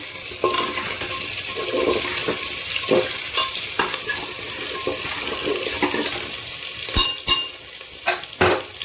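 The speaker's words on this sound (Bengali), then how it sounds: "তেলের মধ্যে আলুগুলোকে একটু হালকা ব্রাউন করে ভেজে নিতে হবে" Potatoes fry in oil in a pan for an egg and potato curry, sizzling steadily up close while spatula scrapes and sharp knocks against the pan come and go.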